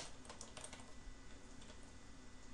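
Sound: typing on a computer keyboard

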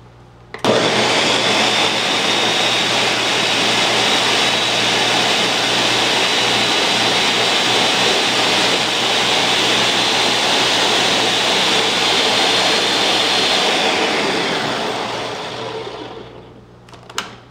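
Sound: blender blending a SweetTart smoothie

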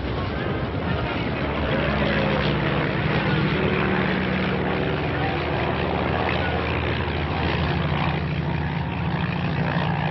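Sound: propeller airplane engine warmed up and running

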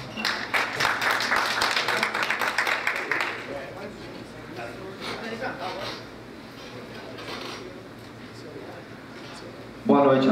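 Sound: council session attendees applauding

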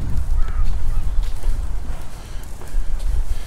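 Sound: ducks at Rowntree Park

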